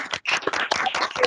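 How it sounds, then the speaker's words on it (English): A small group at an office awards ceremony claps for a special mention winner in a short, dense burst of close, uneven hand claps. "A round of applause for Lee, please."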